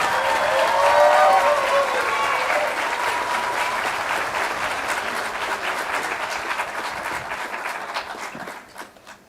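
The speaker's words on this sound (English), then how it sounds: "please join me in a round of applause to welcome co-president Jim Everett." Audience applause at a College of Idaho commencement ceremony, steady clapping from a large crowd that peaks early, gradually thins out and fades to scattered claps at the end, with faint voices mixed in.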